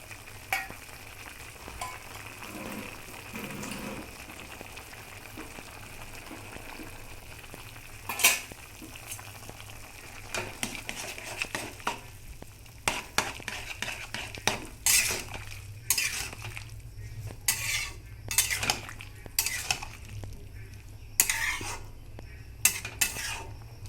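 A paste of ginger, mustard and green chili frying in a pan, a low steady sizzle broken by many sharp clinks and scrapes of a spoon against the metal that grow busier in the second half.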